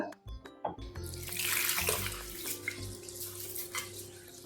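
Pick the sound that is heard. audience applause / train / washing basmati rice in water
washing basmati rice in water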